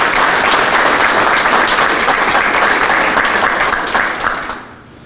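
Outdoor audience at a rainy ribbon-cutting ceremony for a Prince George's County police facility applauding, a loud, steady wash of clapping that holds for several seconds and then fades away.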